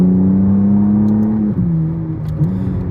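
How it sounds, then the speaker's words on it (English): A McLaren V6 engine revs up close in a steady, throaty drone, swelling slightly and then easing back, with no one talking. "Doesn't sound bad for a V6"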